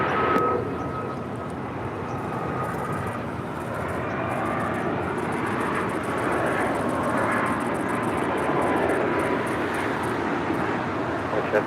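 An airliner takes off from runway 25 right at LAX, its engine roar a broad, steady rush heard from a distance with faint traffic noise underneath and no speech.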